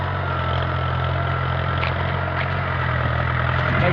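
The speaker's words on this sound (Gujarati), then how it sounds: "ટ્રેક્ટર કેવું ખેડે છે જો" A Sarpanch 475 DI tractor ploughing a field runs with a steady, loud engine drone that holds an even, continuous rumble throughout, close by and with no voices over it.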